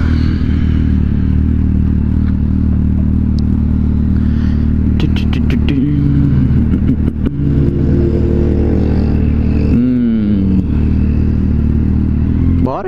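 Kawasaki Z750 motorcycle riding through traffic, its steady loud engine drone running throughout with a brief rev swell near the end, plus some clatter and passing traffic; someone talks over it.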